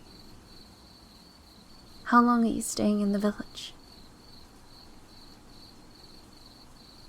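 Cicadas give a steady, faint high buzz on a summer night in a countryside village, continuing throughout while a voice speaks briefly over it.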